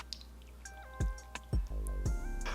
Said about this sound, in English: this one's gonna be poured over ice into a highball glass. And we'll strain it